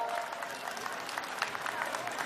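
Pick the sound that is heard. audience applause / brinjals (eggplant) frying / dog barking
audience applause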